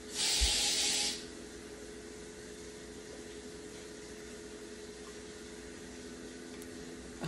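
Indoor aerosol insect spray fired at a fly in one short hissing burst of about a second, close and fairly loud, followed by quiet room tone.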